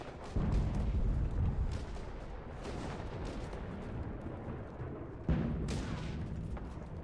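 Gunfire and explosive booms in the World War II shooter game Enlisted during the Tunisia campaign, a steady rumbling barrage with sharper bursts near the start and later on, no talking.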